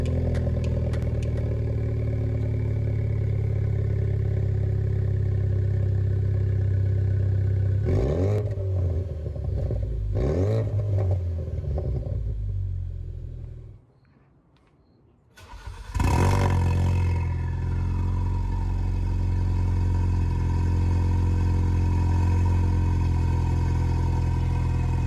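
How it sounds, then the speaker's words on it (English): Ford Focus RS engine idling after its first cold start with a newly installed downpipe, loud and close with a steady rumble, brief revs, a short cut-out, then a sharp restart and a settled idle. "First cold start."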